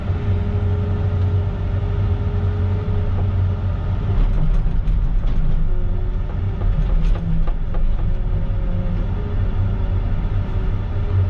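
A CAT 307.5 mini excavator running, a loud continuous diesel engine drone with low rumbling tones and some faint clanks from the machine.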